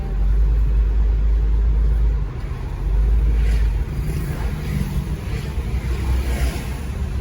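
A modified Mitsubishi car speeds past as though racing, heard as a loud, steady low engine rumble with a surge partway through, no voices over it.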